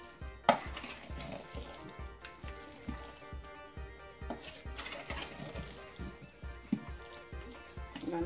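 Sweet potato pudding batter for a Jamaican dessert being mixed in a bowl, with a regular rhythmic stirring thump and soft wet slapping, close and moderately quiet with no talking.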